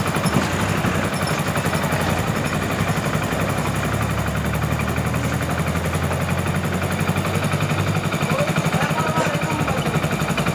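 A Hero HF Deluxe BS6 motorcycle with a misfiring problem and check engine light on idles steadily up close, a continuous buzzing engine drone with a fast regular pulse throughout and no talk over it.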